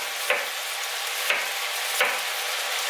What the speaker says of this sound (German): Ich habe die Hühnchen 6 Minuten angebraten, jetzt kommt Zwiebel und Paprika rein.